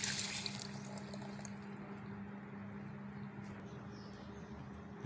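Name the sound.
water being poured in for papaya juice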